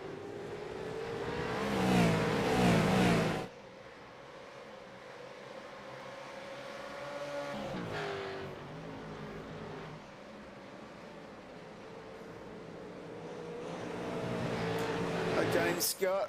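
V8 race cars race at Winton circuit, engines rising and falling in pitch as they accelerate and pass, loud at the start, fading, then swelling again near the end, under steady commentary.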